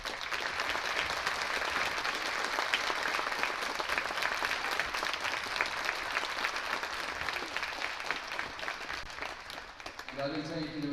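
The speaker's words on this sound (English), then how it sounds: "Let's give them a round of applause." An audience at a Veterans Day school presentation gives sustained applause for current and former grade school staff members who are veterans, a dense crowd clapping that fills the hall before tapering as a voice begins at the end.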